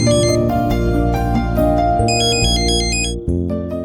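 A mobile phone ringtone plays loud and close, a bright melodic tune with repeating notes that carries on without any talk.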